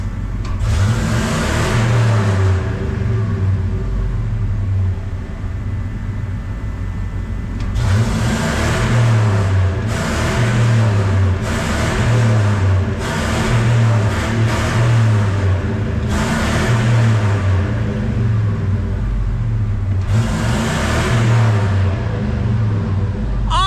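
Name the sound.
5.4 liter American V8 truck engine revving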